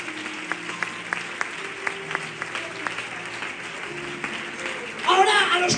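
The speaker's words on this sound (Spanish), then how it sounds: "Un aplauso para Dios" Congregation clapping together in a church, the applause steady and fairly close with a few sharper claps standing out, swelling louder near the end.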